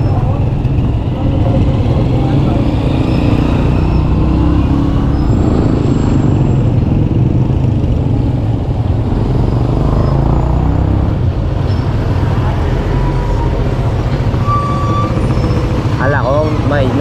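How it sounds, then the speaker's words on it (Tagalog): Heavy road traffic with trucks crawls along the way to the market in Gulong Dupat. Loud, continuous engine rumble and idling fill the scene, with brief brake hisses and beeps and people talking among the vehicles. "Ganyan po ka-traffic dito sa papuntang palengke ng Gulong Dupat."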